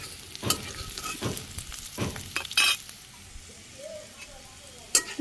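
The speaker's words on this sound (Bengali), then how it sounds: "মিষ্টি কুমড়া ভাজিও প্রায় শেষের দিকে। এখানে যে কয়েকটা খালি মরিচ দিয়ে দিলাম," Sweet pumpkin with a few green chilies frying in a pan, soft sizzling under several scraping stirs and knocks of a spatula, close, with a brief murmur of speech in between.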